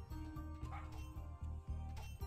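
A dog barks in the video game Battle Princess Madelyn, a series of quick yipping barks repeating in a steady rhythm over loud game music.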